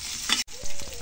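Oil sizzling in a hot pan for a home-cooked festive dish, a short burst of frying crackle with a quick clink, close and moderately loud.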